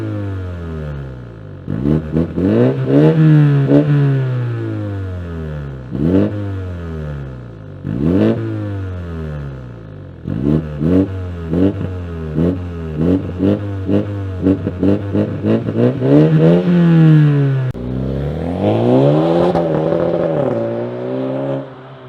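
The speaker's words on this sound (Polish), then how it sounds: "Wydech brzmi genialnie." A BMW F40 with an MG Motorsport exhaust system revs hard repeatedly, the exhaust rising and falling in loud bursts, close by, with quick blips mid-way and a final long rev.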